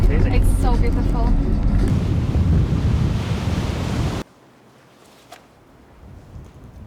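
Sea waves and wind at a secluded beach on Krk island: loud gusting wind and rushing surf fill the first four seconds while people talk, then the sound drops abruptly to faint, distant surf.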